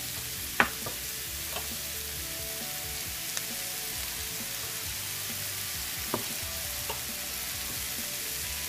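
Mushrooms frying in a pan over medium heat sizzle in a constant soft hiss, while a spoon scrapes and taps a few times as they are stirred.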